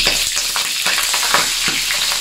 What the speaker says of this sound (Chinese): 加点油炒